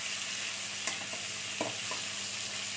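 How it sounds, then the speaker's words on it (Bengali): Potato, onion and capsicum frying in a pan alongside brinjal, a constant sizzling hiss with a few light stirring scrapes and clicks, no voices. "পেঁয়াজও ভাজা হয়ে যাবে, আলু ক্যাপসিকাম সব ভাজা হয়ে যাবে।"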